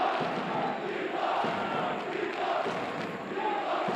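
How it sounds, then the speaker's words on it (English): A large esports tournament crowd roars continuously for Thieves at a Call of Duty Major winners final, the loud chanting and cheering swelling in waves without a break. "And the crowd ramping it up now for Thieves."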